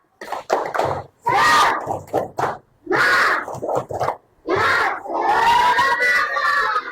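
Schoolchildren at an Islamic primary school in Makassar shout a loud group chant in bursts, with short gaps between phrases and a long sustained call near the end; claps are not clearly separable from the voices.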